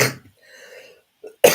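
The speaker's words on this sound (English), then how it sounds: "Now my turn to cough." A person gives a short, sharp cough close to the microphone, then a quieter breathy pause, and a second loud burst of coughing right after.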